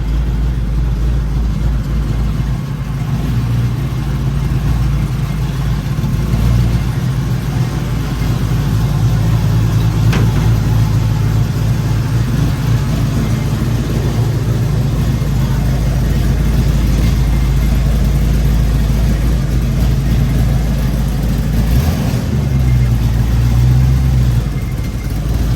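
A 6.2 LS-swapped El Camino engine is heard from inside while riding, a loud, continuous low rumble and drone of road and exhaust noise, with throttle rising and easing near the end and no talk.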